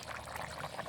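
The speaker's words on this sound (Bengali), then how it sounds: "মাংসটা ঝোল দিলাম" Water poured into a pot of simmering country chicken curry makes a faint, brief, steady trickling splash.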